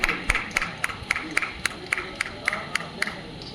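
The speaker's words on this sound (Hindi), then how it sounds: "थोड़ा जोरदार ताली है।" Rhythmic clapping from an audience honouring a writer at a little magazine event in Dhanbad, evenly spaced sharp claps in a steady beat, with voices talking in the background.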